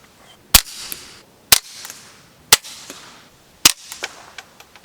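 Four sharp, evenly spaced cracks from a suppressed .22 rifle fitted with a Rebel SOS-22 silencer, each followed by a quick metallic action clack and brief ring, heard close and loud with no voices.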